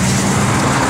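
A 1971 Dodge Charger R/T V8 engine runs loud and close in a steady, full-bodied roar with a deep low rumble and no talk over it.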